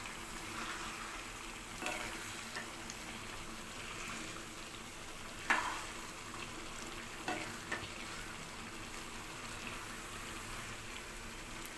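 A prawn and egg masala curry sizzles softly in a pan as it is stirred, giving a faint continuous fry with a few louder scrapes and clinks and no talking.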